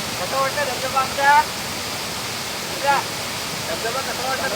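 Steady rushing of a village waterfall hidden in forest fills the scene, loud and unbroken, while people speak briefly over the constant roar.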